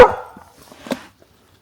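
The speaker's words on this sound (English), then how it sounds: "You don't need to bark." A dog bothered by squirrels at a mountain campsite gives one loud close bark, then small whimpering yips and a second softer bark before silence.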